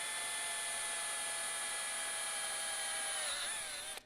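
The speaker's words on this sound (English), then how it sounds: "You are drilling plastic" A power drill whines steadily at high pitch, close and loud, boring into plastic on a 2021 KTM 890 Adventure R motorcycle for several seconds before its pitch drops as it winds down.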